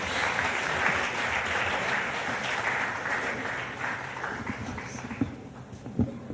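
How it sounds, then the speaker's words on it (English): Audience applause at a leadership summit welcoming cricket legends Sachin Tendulkar and Brian Lara: a dense, sustained crowd clapping that stays steady, then thins toward the end with a few louder individual claps. "Big round of applause, everybody."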